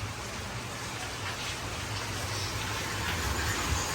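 Steady rain falls in a broad, even hiss that keeps going without a break, close and fairly loud, with a low rumble underneath.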